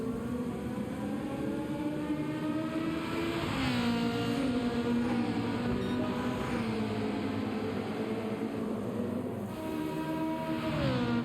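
A Viper race car in Gran Turismo 7 roars along a long straight, its engine note a steady loud drone that rises and falls in pitch as it drives past.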